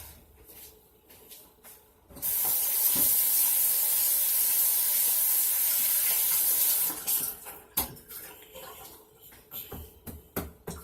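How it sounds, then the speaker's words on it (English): A kitchen sink tap is turned on and runs in a loud, steady hiss of water over hands for about five seconds, then shuts off and leaves clattering handling noises nearby. "let me wash my hands off"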